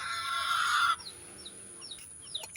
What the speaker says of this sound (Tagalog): Puntaan natin yung ating sisiw na hindi pa kumakain.